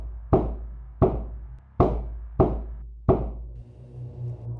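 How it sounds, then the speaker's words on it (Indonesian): Five sharp knocks on wood at the back of a village night-guard post, evenly spaced about once every seventy seconds... close and distinct, followed by a faint low hum. "seperti ada yang mengetuk-ngetuk kayu bagian belakang pos ronda"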